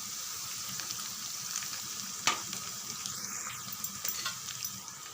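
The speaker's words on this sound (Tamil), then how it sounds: "வெங்காயம், வெங்காயம் நல்லா சோக்க வதங்கட்டும்" Onions sizzling steadily in hot oil in a pan for sambar, a continuous bright crackle with one sharp pop and a few soft stirring scrapes, close and heard alone.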